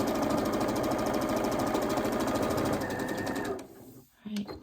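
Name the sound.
sewing machine stitching a quilt block seam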